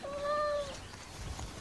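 A cat gives a single clear, rising-and-falling meow near the start, followed by quiet rustling background; no one speaks.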